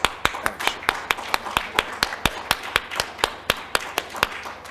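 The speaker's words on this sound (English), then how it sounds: "Those people over there deserve the greatest applause, actually." Audience at a democracy conference claps in a steady, rhythmic applause, sharp evenly spaced hand claps close and clear with no talk.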